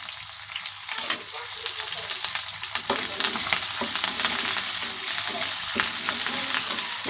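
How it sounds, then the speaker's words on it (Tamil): Onions frying in a pan for onion chutney, a loud continuous close sizzle with scraping stirs of a spoon through the pan, steady throughout with no talking. "நல்லா கிண்டி விடுங்க. வெங்காயம் நல்லா கலர் சேஞ்ச் ஆகணும்."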